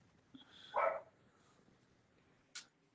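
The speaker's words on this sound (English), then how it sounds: "I hear your dog. I know, she's barking in the background." A dog barks faintly in the background of an indoor space, with one muffled woof and then a sharper single yip a couple of seconds later, over low room noise.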